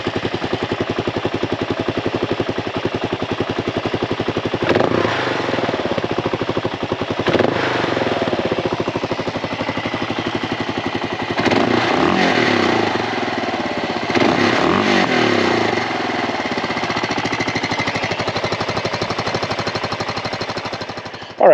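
A Gen 1 Kawasaki KLR 650 motorcycle's single-cylinder engine runs close and loud with a rapid, chugging thump, rising in several brief throttle blips before settling back to idle.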